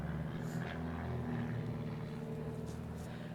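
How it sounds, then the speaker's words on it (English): Low propeller airplanes drone overhead above a residential garden, a steady rumbling hum that stays constant throughout and is moderately distant, with no voice heard. "This is really crazy with these planes."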